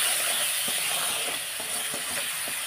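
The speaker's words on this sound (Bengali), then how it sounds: "আর দিচ্ছি পরিমাণ মতো নুন দিয়ে এইবার মশলাটাকে কষবো" Spice paste of Kashmiri chili powder and salt, with onion and garlic, frying in oil for doi katla: a steady close sizzling hiss scattered with small crackling pops, no voices.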